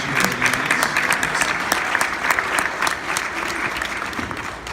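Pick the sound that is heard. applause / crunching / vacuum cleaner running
applause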